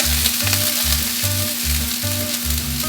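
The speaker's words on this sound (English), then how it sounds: "I'm gonna add them straight to the skillet, no need to thaw them." Frozen peas and carrots fry straight from the bag in a hot skillet with a loud, steady sizzle, broken by a regular rhythm of low thumps as they are stirred and tossed, with no voices.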